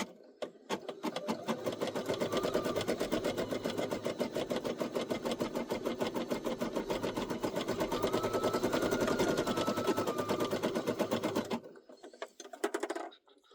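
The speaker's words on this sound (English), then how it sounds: "It's a good thing that I'm here doing a video babysitting this machine" A Brother SE1900 embroidery machine stitching a coffee coaster, a fast steady mechanical chatter of rapid needle strokes, close and continuous, stopping near the end before a few faint handling knocks.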